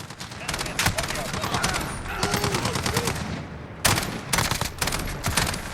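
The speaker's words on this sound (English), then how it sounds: "So the rate of fire on this burst is really good" Bursts of rapid gunfire from the STAR-21 DMR in Call of Duty: Modern Warfare, loud and close, firing in quick two-round bursts with short gaps, then a brief lull before another cluster of sharp shots.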